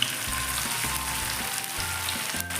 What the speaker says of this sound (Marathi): तेल तापलेलं आहे सोडूया याला